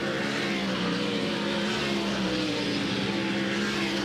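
A race car laps the Eldora Speedway dirt track, giving off a continuous, steady engine drone with a dense, rough roar and no clear pass-by peak.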